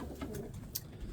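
Racing pigeons coo softly in a loft, low murmuring calls close by with a faint rustle, brief and quiet.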